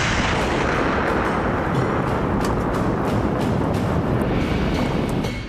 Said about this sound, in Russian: весь взрывоопасный арсенал, найденный у черных копателей, уничтожается. Занимаются этим специалисты групп разминирования